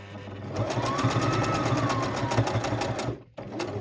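A sewing machine stitches small fabric pieces for junk journal tag toppers, running at a steady fast whir with a rhythmic needle chatter for about three seconds before a brief stop and restart.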